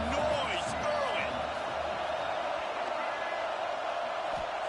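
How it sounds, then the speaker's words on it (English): A football stadium crowd during a game produces a loud, steady roar that holds at an even level throughout, with a brief distant thump near the start. "This crowd bringing the energy and noise early."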